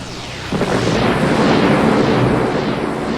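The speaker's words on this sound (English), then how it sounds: "Then, in one blinding ball of fire, they disintegrated." A blinding ball of fire as energon cubes explode: a sudden, heavy roar bursts in after a brief quiet and keeps rumbling loudly and broadly to the end, with no voices.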